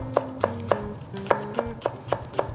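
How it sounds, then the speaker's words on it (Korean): A knife finely slicing a cross-scored green onion on a cutting board, giving about nine crisp, evenly spaced chops in quick rhythm, close and clear with no talk. "이러고 잘게 슬라이스를 해주시면 되세요."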